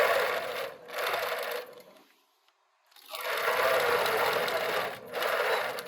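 An APQS longarm quilting machine stitches straight lines against a ruler, running in two sustained rapid whirring bursts separated by a short silent pause, with brief dips in speed, close and clear.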